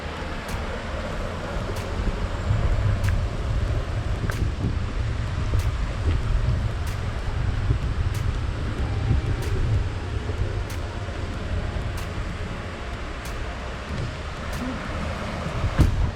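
Near Sequim, Washington, the Dungeness River runs through forest as a steady, continuous wash, muffled by wind noise, with faint regular ticks throughout and no voices.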